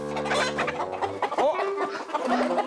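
Roosters and hens on a farm cluck and squawk together in a busy, close flock, with overlapping calls and a short crow-like cry in the middle.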